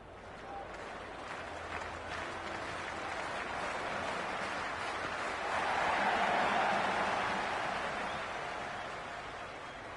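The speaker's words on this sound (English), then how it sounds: "already the crowd making a hell of a racket" A stadium crowd at an England versus Pakistan T20 international in the Cricket 26 video game keeps up a broad, steady roar of cheering that swells midway, continuous throughout with no voices standing out.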